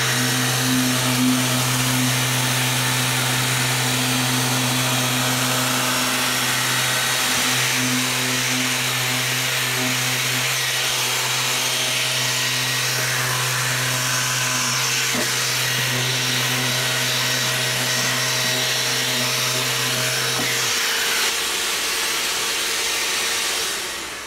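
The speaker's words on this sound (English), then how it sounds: "we're going to run the sander, let you see how smooth it is" A steady Mirka DEOS random orbital sander whirs with a constant hum for about twenty seconds, then cuts out near the end.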